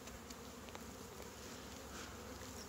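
Honey bees packed tightly into a crowded nucleus hive box, their dense, steady buzz filling the space continuously at close range with no one speaking.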